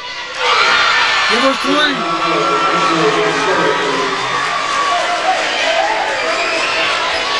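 A crowd at a girls' high school basketball game cheers and yells loudly and continuously, with whoops and shouts rising over the noise and a voice calling out early on.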